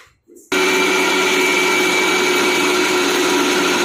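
Electric mixer grinding soaked dal into a fine paste for idli batter, starting abruptly after a brief quiet moment and then whirring loudly and steadily at close range.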